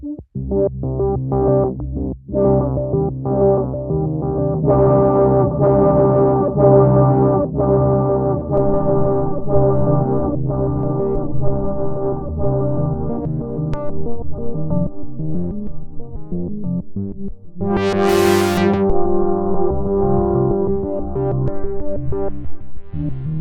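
A sustained synth plays layered, harmonically rich notes with echoing repeats trailing behind, then a bright high swell rises near the end before settling back.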